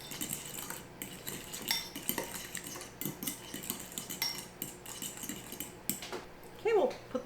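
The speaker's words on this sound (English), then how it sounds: "And I'll just mix this up." A utensil stirs mayo filling in a bowl, giving repeated scraping and clinking strokes against the dish at close range, with a brief louder clatter near the end.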